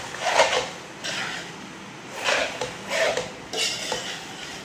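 Red sauce pasta stirred in a pan, heard as a few scattered clinks and scrapes of a utensil against metal at irregular intervals. The sounds are soft and nearby.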